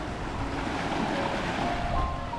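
Steady rushing surf and wind at a beach in Pattaya, Thailand, a continuous wash of waves with no voices, fairly loud and close.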